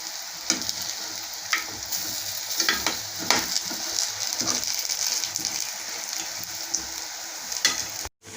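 Mysore bondas fry in hot oil with a dense, continuous sizzle, punctuated every second or so by stirring scrapes and splashes as the fritters are turned over.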